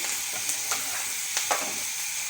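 Tomatoes are added to a hot pan and fry with a steady, close sizzle, with a few soft stirring scrapes on top.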